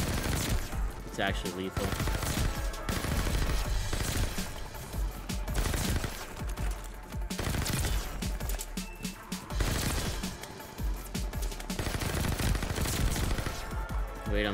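Marco 5 submachine gun in Call of Duty: Vanguard firing in dense, rapid automatic bursts nearly nonstop, loud and close, with someone talking excitedly over the shooting.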